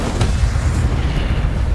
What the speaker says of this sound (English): Levioso! Expelliarmus! Incendio!